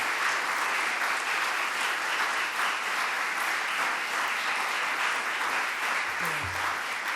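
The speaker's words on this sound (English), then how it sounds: "Give yourselves a round of applause." Sustained audience applause at a governor's state budget announcement, a dense, loud and steady roar of many hands clapping throughout, with a brief low thump near the end.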